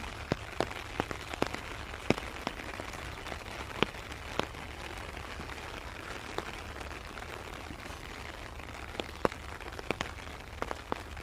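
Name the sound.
heavy rain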